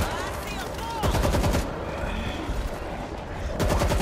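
Rapid bursts of gold AK rifle fire in the zombie shooter World War Z, loud and close, with dense game action and effects filling the gaps between volleys.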